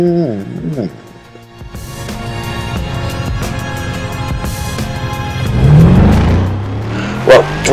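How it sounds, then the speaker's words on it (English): A Jeep Grand Cherokee SRT with a Hemi V8 in the Need for Speed World racing game, its engine revving and climbing through gears in loud rising sweeps, the roar swelling toward the end, with a voice talking over it at the start. "when you get it and you slam the throttle, you'll notice it has same beefy Hemi V8 noise like in the Challenger concept"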